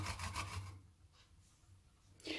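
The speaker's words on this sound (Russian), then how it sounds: "В сок половины апельсина я натираю на мелкой терке чеснок." Garlic is rubbed against a fine grater above a bowl of orange juice, giving soft, close, rasping scrapes in short strokes that fade, then return.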